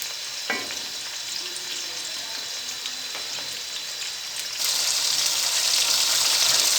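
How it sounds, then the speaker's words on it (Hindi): Onions sizzle steadily in oil in a pan while being cooked for a palak gosht (spinach mutton) dish, a constant close hiss that grows louder and brighter toward the end, with occasional stirring clinks. "प्याज हमारे अच्छे फ्राई हो चुके हैं।"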